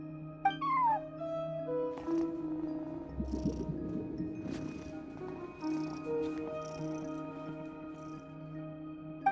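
A cat keeping watch over a front desk gives a few short meows and a soft purr, set against steady sustained background tones.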